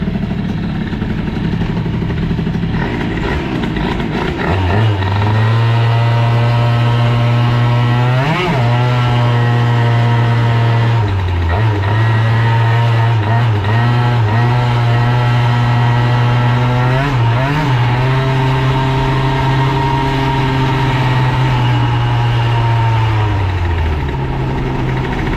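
A Bidalot RF 50 WR moped fitted with a Yasuni C30 exhaust and extension runs loud and close, its steady engine drone lifting in a few short revs before settling back and cutting off near the end.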